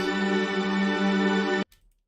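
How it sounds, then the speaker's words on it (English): A sustained, rich synthesizer pad chord from the Chimera plugin holds steadily, then cuts off abruptly, leaving a brief soft tail. "that's with this pad, which sounds like"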